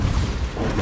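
A Bombarda spell explodes in the video game Hogwarts Legacy, a dense, sustained low rumbling blast that stays loud for the whole short moment amid other combat noise.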